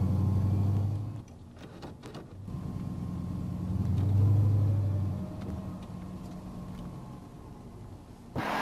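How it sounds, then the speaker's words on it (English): A car with a 4L60E automatic transmission is driven on a road test, its engine rumbling low and steady. The engine note swells and eases as it accelerates and shifts, with a brief louder burst at the end. "let's road test the vehicle to see if the transmission is in good working condition"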